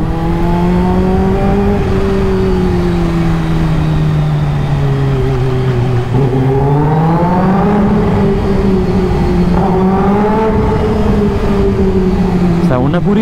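A Lamborghini Aventador engine drones steadily inside a road tunnel, its pitch rising and falling with throttle changes and a sharper rev near the end, loud and reverberant throughout.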